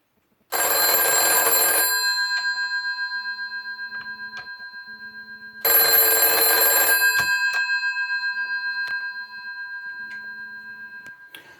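A telephone's mechanical bell rings loudly in two separate bursts, each a dense clanging rattle followed by a long ringing decay, with quiet clicks in between.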